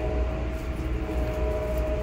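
Seen from a passenger train, a freight train hauled by Dash 9 locomotives is overtaken, giving a continuous low rumble with steady wheel and rail noise, fairly loud and close, without talk.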